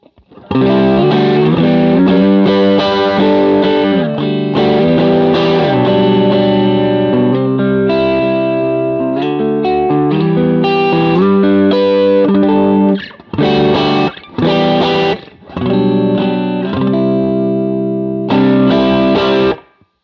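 Electric guitar played through an engaged Sonic Drive Deluxe overdrive pedal, with mild gritty drive and added fullness. Loud sustained chords and melodic lines ring continuously, with brief breaks and stabs near the end, and no voice.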